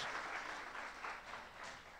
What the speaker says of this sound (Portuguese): Receba essas palmas como um forte abraço nosso